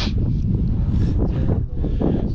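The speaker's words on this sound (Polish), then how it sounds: "Plugawy wiatr wieje." Cold wind blowing steadily outdoors on a sunny day, a continuous broadband rush buffeting the microphone with gusty swells throughout, no voices.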